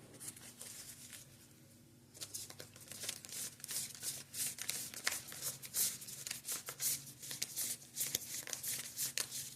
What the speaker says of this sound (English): This is the longest shuffle I've done